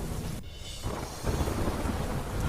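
A heavy monsoon downpour in Chhattisgarh pours down as a dense, continuous wash of rain, with deep rumbling thunder rolling underneath and swelling toward the end.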